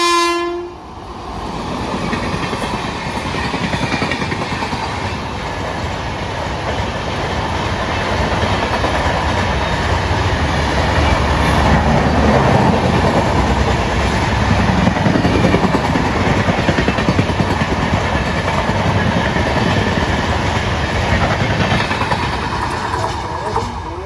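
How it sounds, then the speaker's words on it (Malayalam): Okha–Ernakulam Express train running through Ezhimala station without stopping, a loud continuous rumble and rail clatter lasting throughout, with a long horn blast held across most of the pass. "ഗുജറാത്തിലെ ഓക്കയിൽ എറണാകുളം പോകുന്ന ഓക്ക എറണാകുളം എക്സ്പ്രസ് ആണ് ഇപ്പം ഏഴിമല സ്കിപ്പ് അടിച്ചിട്ട് പോയത്"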